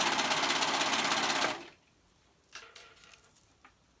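A sewing machine runs through fabric in one fast, loud, close burst of stitching for about a second and a half, then stops, leaving a few faint handling rustles.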